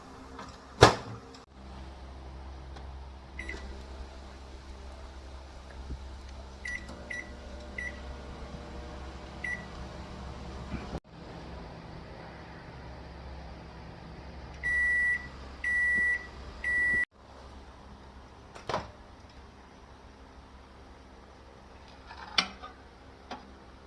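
A microwave hums steadily for a long stretch while heating bread on a plate, with a few clicks and knocks, then three loud beeps near the end before it falls quiet.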